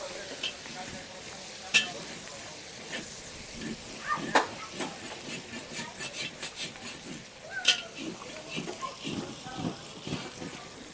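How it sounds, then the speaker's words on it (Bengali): Slit green chillies are stirred into hilsa fish heads frying for a taro-greens dish, with soft scraping strokes and occasional clinks over a quiet, continuous sizzle. "এবার দিয়ে দিচ্ছি চিড়ে রাখা কাঁচা লঙ্কাটা মাছের মাথাগুলো দিয়ে মিশিয়ে দেবো"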